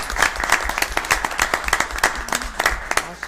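An audience at a city commission meeting applauds, a dense burst of sharp, close claps from a modest crowd that continues steadily throughout.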